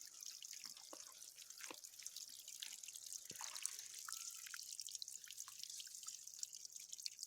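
Water dripping from a handmade drip irrigation hose with emitters set 50 cm apart on a maize plot, steady soft drips and trickles over faint background hiss.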